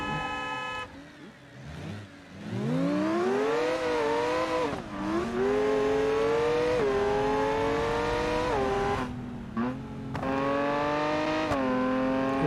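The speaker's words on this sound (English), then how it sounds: "there's one question I don't know is how to make the supercharger quieter. It still is pretty loud." A loud supercharged car engine in the BeamNG driving game, revving up and holding a high whining pitch that rises and falls repeatedly, with brief throttle lifts between pulls, close and continuous.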